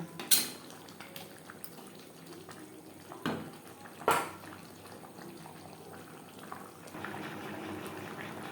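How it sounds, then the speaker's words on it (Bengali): Chicken and potatoes stirred together in a cooking pot, a few quiet spoon clinks and knocks against the pot over a soft, continuous simmering hiss, faint and fairly distant. "চিকেনের সাথে আলু বেশ ভালো করে মিক্সড করে দেব।"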